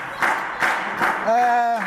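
A wrestling crowd claps in slow, spaced beats at a UK wrestling show, three or four even claps before a voice breaks in over the end.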